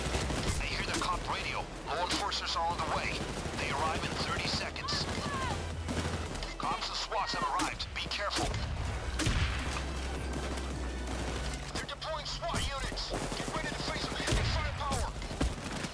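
Heavy gunfire in the heist shooter Payday 2, dense bursts of automatic and single shots from several weapons, loud and continuous, with someone talking excitedly over the shooting.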